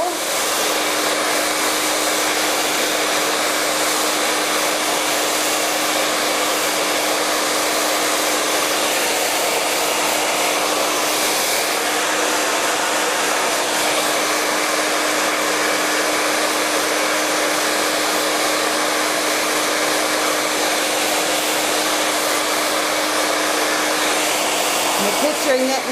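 A blow waver hair dryer blow-drying short hair gives a loud, steady, unbroken whoosh with a constant motor hum throughout, and no voices.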